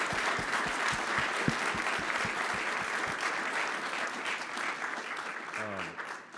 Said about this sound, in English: we need to do a round of applause for our panelists up here